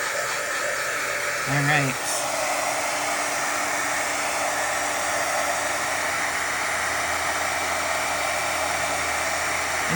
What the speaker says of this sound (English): since I didn't heat my heat tool up too much, it took a few extra seconds